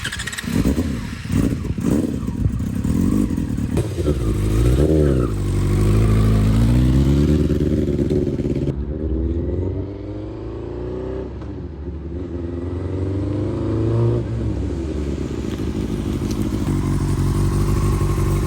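A Yamaha R6 sport motorcycle with a worn rear tire covered in brake fluid does burnouts, its engine loud and close, revving hard with rising and falling pitch and clattering over sustained high-rpm roaring.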